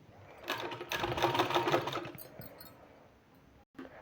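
An electric sewing machine stitching a sleeve seam runs in a steady, close whirring burst for about a second and a half, then slows and fades into softer fabric handling, with a brief silence and a short restart near the end.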